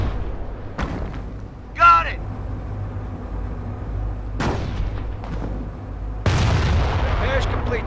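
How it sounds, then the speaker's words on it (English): Mortar fire in the Company of Heroes battle at a V-2 rocket facility: several heavy booms arrive spaced seconds apart, the last rumbling longer, with voices speaking between them. "Mortar here!"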